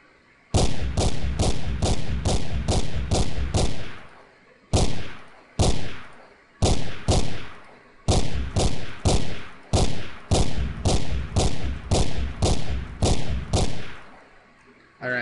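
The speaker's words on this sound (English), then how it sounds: "And then I have to use my pistol to snipe these guys." Rapid volleys of pistol shots from the video game Dark Flow, loud and close, firing in bursts of several quick cracks separated by brief pauses.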